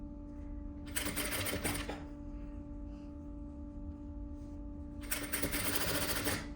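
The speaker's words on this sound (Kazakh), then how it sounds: "Осылай екі жағынан тігіп отырып, екеуін бір-біріне туралап" Sewing machine stitching the pieces of a vest together, running in two loud bursts near the start and end, with a steady low hum and quieter handling between them.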